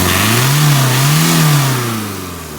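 A Rover Maestro diesel engine with a fuel starvation fault revs up twice in quick succession, the pitch climbing and falling, loud and close, then settles back toward idle.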